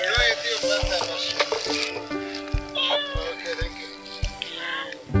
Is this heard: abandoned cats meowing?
yes